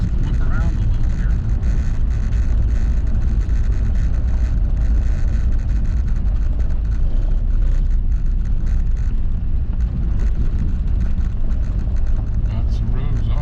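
A car drives along a mountain road, a continuous loud engine and road drone heard from inside the cabin, with people talking over it.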